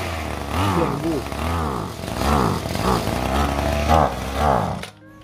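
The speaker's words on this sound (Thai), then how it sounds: "อาการก็จะเป็นแบบนี้แหละครับเร่งไม่ขึ้นสตาร์ทติดยากครับ" A grass trimmer's small two-stroke engine revs unevenly and fails to accelerate, its buzzing pitch rising and sagging in repeated surges before cutting off, with someone talking over it.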